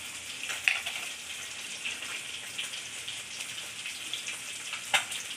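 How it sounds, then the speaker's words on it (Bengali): Dried red chillies fry in hot oil after cumin seeds, a steady soft sizzle and crackle with a few sharper pops, alone without talk. "শুকনো লঙ্কা কটা ভেজে নেব।"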